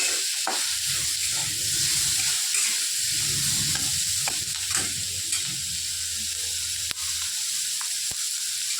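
A vegetable dish sizzles and fries steadily in a pan after salt is added, with intermittent stirring scrapes and a soft crackle throughout, no one speaking.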